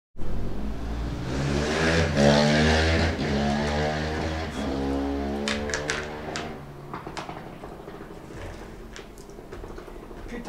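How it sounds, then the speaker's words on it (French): A motorcycle passing outside a woodworking workshop, its engine swelling loudly then fading away over several seconds, followed by a few sharp knocks and clatters nearby. "Putain de moto."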